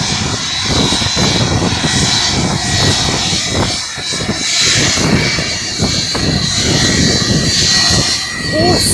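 Icelandair Boeing 757-200 engines running before departure to Reykjavik, a loud steady jet roar with broadband rumble and whine filling the whole clip, with faint voices underneath.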